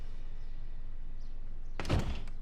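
A door handle rattles and a locked door thuds against its frame once, loud and close, after a stretch of steady background hum; it doesn't open.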